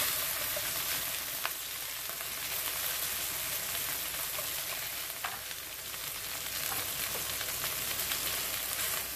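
Garlic frying in a pan, a dense continuous sizzle and crackle close by, with a few faint spatters and ticks and no voices.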